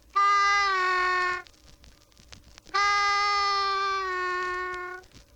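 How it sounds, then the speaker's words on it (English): Two long, reedy draw notes on harmonica hole 2, bent down in pitch, each held steady for over a second with a short quiet gap between, played alone and clearly. "The bent note you get should sound like this."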